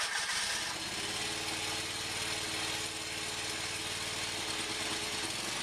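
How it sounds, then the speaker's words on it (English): A John Deere engine in 15-degree cold turns over steadily on a cold-start attempt, a continuous loud cranking drone with rhythmic low pulsing that runs unbroken throughout without clearly catching. "John Deere, 4th attempt cold start."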